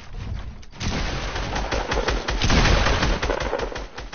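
Rapid bursts of gunfire from the video game 1v1 playground crackle loudly and close, clustered shots rattling in quick succession after a brief lull at the start.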